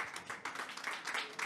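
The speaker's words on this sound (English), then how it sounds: "A warm round of applause for the director." An audience applauds for the director at a conference event on financing the green hydrogen economy, a faint steady patter of many hands clapping from a distance.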